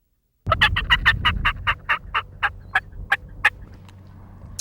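A diaphragm mouth call imitates a wild turkey: a rapid, loud, raspy cackle of quick notes that slows into a string of short, evenly spaced clucks, close and alone.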